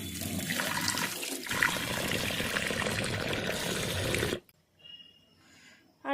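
Tea poured from a pot into a cup at home, a steady broadband liquid rush lasting about four seconds, then a brief quieter trickle and a final short splash.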